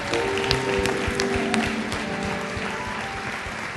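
An audience applauds the musicians at a church service, a dense, steady wash of clapping that carries on for the whole stretch with a few sharper individual claps standing out.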